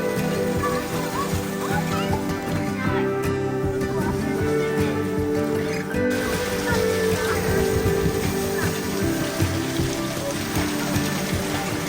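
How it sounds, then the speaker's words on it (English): Steady, heavy rain falls throughout an Arizona monsoon storm, a dense continuous patter and hiss that stays even and loud from start to finish. "we're so thankful for all of the rain because our area definitely needed it"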